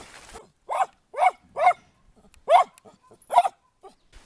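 A pet dog barks in a home woodworking workshop, five or six loud, close barks with short pauses between them, no voices alongside.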